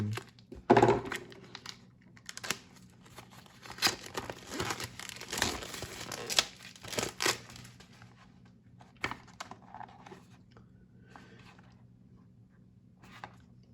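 Packaging of an RZTK Sonic White electric toothbrush is opened by hand: bursts of crinkling, tearing and rustling come close and irregularly, busiest early on, then thin out into sparse handling noises. No voices.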